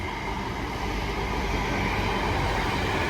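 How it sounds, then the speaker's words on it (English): A train at Rochdale station rumbles past close by, a loud steady roar of wheels and engine lasting the whole stretch without voices. "next train to pass by"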